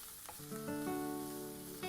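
Garlic paste with a handful of carrot greens fries quietly in a pan, giving a soft, even sizzle with light stirring and a faint steady hum beneath.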